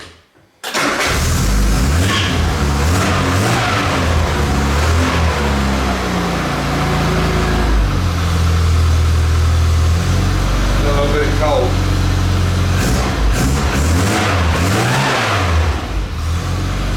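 A car engine idles a little fast, loud and close, its steady running rumble held from start to finish with no break.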